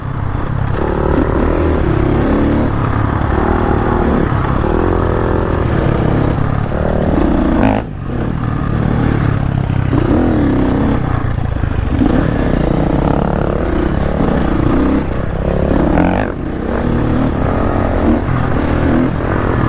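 A Husqvarna FE366 dirt bike engine on a tight trail ride, loud and close, droning steadily with repeated rises and falls of revving and two brief dips where the throttle is chopped.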